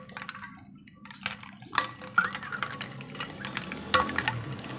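Spoon stirring peach juice with a teaspoon of black salt in a glass or jug, giving soft liquid swirls with a few sharp clinks of metal against the container, close and alone.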